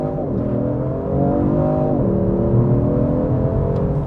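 A Genesis G70 3.3T Ultimate Sport launches hard under launch control, its twin-turbo engine note climbing steadily and dropping briefly at each quick upshift, heard loud from inside the cabin.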